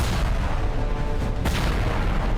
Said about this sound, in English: The fight raged in a constant roar of explosions